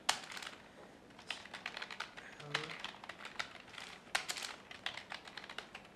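Close, quiet typing on a computer keyboard while writing a Python program: irregular bursts of rapid key clicks with short pauses between them.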